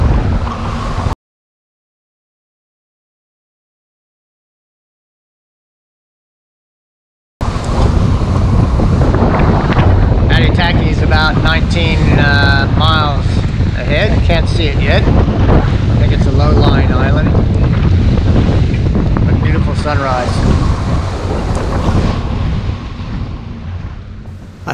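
Steady, loud wind buffets the microphone aboard a sailing yacht at sea in 10 to 15 knots of breeze, with a rush of water beneath. The sound cuts out briefly near the start, and voices are faintly heard under the gusts.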